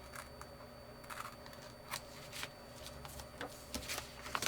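Paper excess trimmed off a small handmade mini book, a string of faint, close snips and crisp paper rustles in a quiet room.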